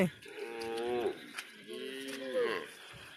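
Cattle at a market on a Padma river sandbank near the India–Bangladesh border: two drawn-out moos, one after another, fairly close and moderately loud.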